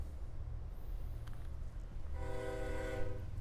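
A train horn blows at West End railroad crossings, a loud sustained blast rising over the steady low rumble of the passing train, heard from nearby.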